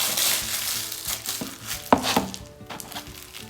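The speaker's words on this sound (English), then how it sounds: "Now the plastic bag, which I'm gonna crumple it into a small ball." A plastic bag is crumpled into a small ball by hand during a galaxy canvas painting craft, giving a close, continuous crackling and crinkling with a few sharper crunches and no talk.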